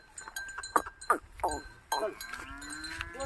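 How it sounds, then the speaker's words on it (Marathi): Several short bellows and calls from cattle, spaced irregularly, over a quiet outdoor background with faint ringing tones. "चरिंद्यावरल्या गाय आहे"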